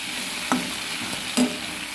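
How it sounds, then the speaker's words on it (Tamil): Tomatoes and curry leaves sautéing in a pan for black sesame chutney, a soft continuous sizzle broken by two brief scraping stirs of the spoon, close and fairly quiet. "நல்லா இந்த மாதிரி வதக்கி விட்டுருங்க"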